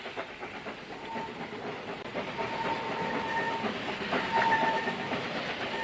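A steam train chugs through a valley with steady rhythmic rumbling and clatter, and faint whistle tones drift in the middle distance.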